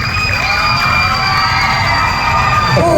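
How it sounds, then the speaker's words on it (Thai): A crowd at a children's dance project event cheers loudly to welcome a guest, a dense, sustained wall of shouting and whooping voices with clapping mixed in, close and continuous throughout. "ขอเสียงปรบมือต้อนรับเฮียบอยด้วยค่ะ"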